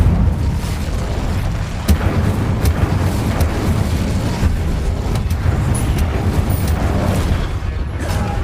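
The Incendio fire spell in Hogwarts Legacy gives a loud, continuous roaring rumble with scattered crackling bursts that holds for several seconds.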